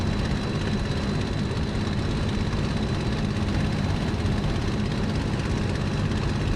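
A Bf 109 G-6 propeller fighter in Microsoft Flight Simulator drones steadily in flight, a loud, continuous engine roar with a faint high whine running through it and no break in level.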